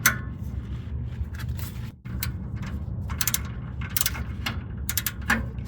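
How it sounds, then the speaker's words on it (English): Ratchet wrench tightening a bolt on a 1999 Acura RL starter: rapid metallic clicking in repeated bursts, with a brief pause partway through, over a steady low background hum close to the mic. "Take the wrench off, reposition it."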